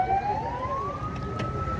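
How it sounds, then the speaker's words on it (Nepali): An ambulance or fire engine siren wails steadily with a slowly rising tone at a large fire in Teku, Kathmandu, heard from a distance over dense traffic and crowd rumble. "ल हेर्नुहोस् एम्बुलेन्स पनि आएर एम्बुलेन्स हो कि दमकल हो"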